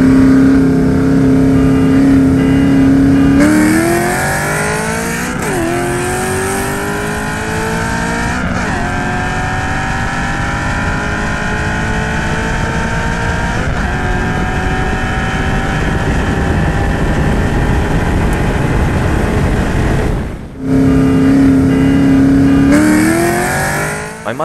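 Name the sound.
Ford Mustang accelerating in race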